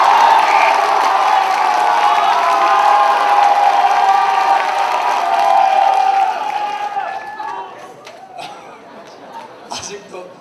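A congregation claps and cheers at an evening worship service of a student retreat, loud and dense at first, then thinning and fading into scattered claps and voices.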